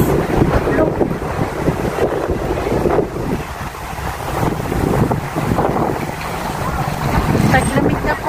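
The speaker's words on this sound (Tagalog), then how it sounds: "Wow! Hangin na" Strong winter wind buffets the microphone in continuous rumbling gusts outside a building, rising and falling throughout.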